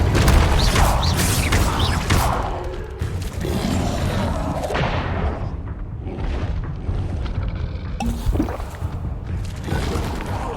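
An Incendio fire spell in Hogwarts Legacy erupts with loud whooshing bursts and heavy thuds, crashing impacts at the start, a lull, then another sharp blast near the end, game effects without speech.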